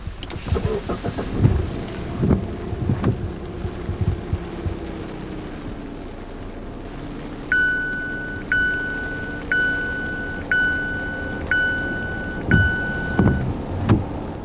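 A 2021 Mazda 6 Carbon Edition starts by push button, with a chime repeating at a steady one-second rhythm, soft clicks and thumps, and the engine settling into a low, quiet idle hum.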